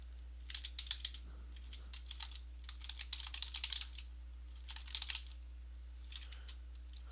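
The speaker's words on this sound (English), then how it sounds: "I'm just going to start typing them out." Bursts of rapid clicking keystrokes on a computer keyboard, close and fairly quiet, coming in irregular clusters over a steady background hum, with no talking.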